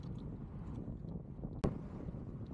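Strong wind along a bike lane beside a man-made lagoon in Khalifa City gives a steady low rumble of buffeting across the microphone, broken once by a brief sharp knock.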